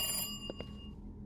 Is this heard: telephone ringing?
yes